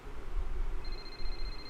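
A phone rings in the F1 2021 racing game's Braking Point story mode, a faint steady electronic tone that starts partway through over low background hum.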